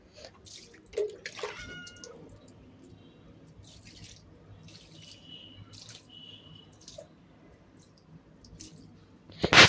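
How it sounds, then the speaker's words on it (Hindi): A cat cries out while being bathed, meowing in short bursts over the steady drip and trickle of poured water, with a louder splash or knock at the very end. "और देखो कितना चिल्लाती है पानी डालने के टाइम"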